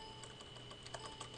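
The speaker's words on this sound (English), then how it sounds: "you can press Control F on your keyboard, and you can type in C6" Soft, quiet keystrokes on a computer keyboard, a light irregular patter of clicks over a steady hum, while software is being set up.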